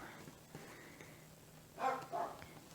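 A small female dog gives two short barks in quick succession, moderately loud against a quiet indoor background.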